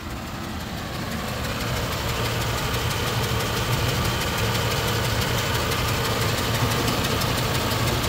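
A 2008 Ford F-350 utility bed truck engine idling with a slight misfire, a loud, close, continuous diesel-like rumble with a faint irregular ticking knock running throughout, no speech.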